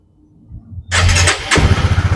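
A used motorcycle offered at a dealer starts up: a quiet click and crank give way to a loud, sudden catch, followed by a rough, throbbing idle close by, with no talk over it.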